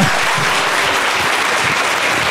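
Loud, dense clapping from a youth church service congregation, a continuous wash of many hands that fills the whole moment at close range with no voices over it.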